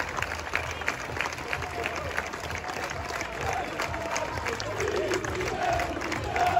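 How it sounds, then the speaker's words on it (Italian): Crowd of football fans clapping and cheering at a club presentation, moderate volume, a steady rumbling wash of applause that slightly swells toward the end. "Un applauso, facciamoci sentire."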